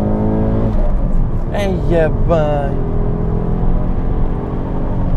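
An Alfa Romeo GT with the 3.2 V6 Busso engine drones steadily under load while driving, its smooth engine tone constant throughout as someone talks briefly over it.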